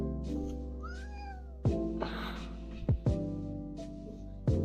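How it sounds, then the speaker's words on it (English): Miko, a pet cat, gives several meows close up, one drawn-out call followed by shorter, sharper ones spaced a second or so apart, with light handling noise between them. "He is my tactical kitty."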